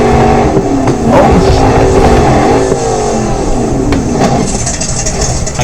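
A simulated off-road vehicle engine revs hard in the driving game BeamNG.drive, a loud, continuous roar with wavering pitch as the throttle rises and falls throughout.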